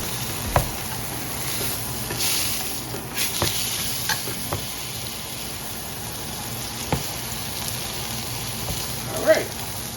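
Food sizzling and frying in a hot pan while a sandwich is being made, a steady crackling hiss with occasional stirring clicks and a few faint voices in the background.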